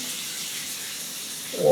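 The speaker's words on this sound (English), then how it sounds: "Pressure is really good out of the hand wand" A hotel bathroom shower hand wand sprays water at strong pressure, a steady close hiss of spray that swells slightly at the end, with no speech.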